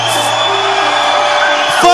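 A crowd of around 5,000 fans in Manchester screams and whoops for a celebrity appearance, loud and sustained, with amplified voices ringing over the roar.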